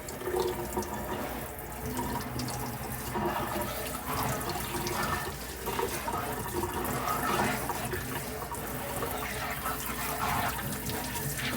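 Hot water runs steadily from a kitchen tap into a sink while an almond milk strainer is rinsed, a continuous close splashing rush with slight shifts as the hand moves through the stream.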